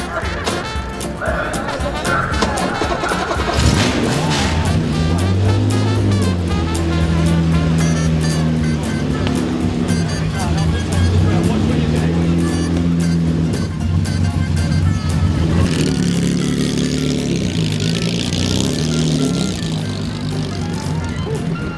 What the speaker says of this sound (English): Gentlemen, start your engine, please.